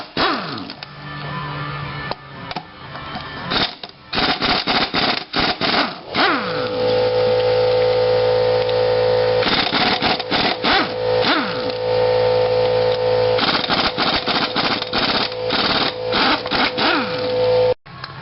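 A 7/8 socket wrench spins lug nuts off a Suburban's wheel in bursts of rapid ratcheting clicks, broken by short pauses. The sound is close and fairly loud, and nobody talks over it.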